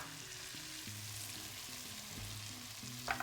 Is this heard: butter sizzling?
yes